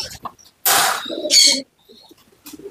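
Breeding birds in a coop with a hen and newly hatched chicks give soft coos and brief chirps, close by, with someone talking over and between the calls.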